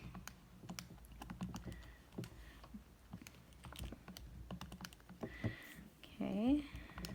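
Keys tapped on a calculator while solving a system of equations, a string of quiet, quick clicks spread across the stretch with faint background noise.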